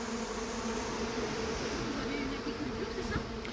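A large swarm of honeybees drones in a continuous, dense buzz, steady and loud throughout with no pauses, captured during the collection of a runaway swarm at Ozoir-la-Ferrière.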